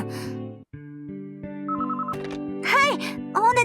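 A telephone rings in a home with repeated electronic bell tones that step up in pitch, while voices talk over the ringing.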